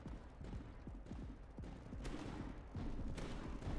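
Turret gunfire in the video game Tower Dominion, with rapid overlapping shots rattling continuously in a dense fusillade and occasional louder bursts, with no talk.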